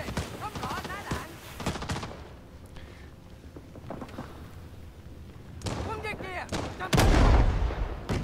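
Gunfire in Rising Storm 2 DMZ comes in scattered bursts and sharp cracks, with a heavier blast near the end, mixed with talk and game voices throughout.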